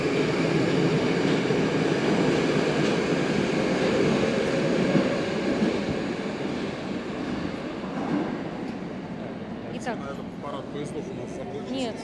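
Metro train 775 on Moscow's Big Circle Line rolls past at a train parade as a loud, continuous rumble that slowly fades, ending with faint wheel squeals and clatter. Speech is mixed in faintly.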